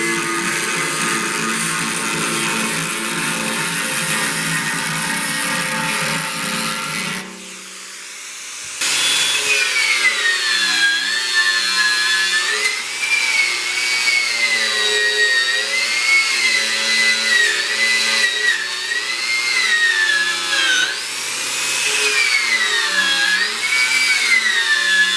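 A power tool grinds steadily against the steel door of an offset reverse BBQ smoker as it cuts a small groove, pausing briefly midway before resuming with a wavering, loud whine.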